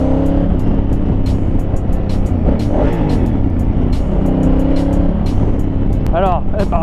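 A 2019 Honda Africa Twin motorcycle engine drones steadily while riding, loud and close under wind rush, with a rider's voice talking over it.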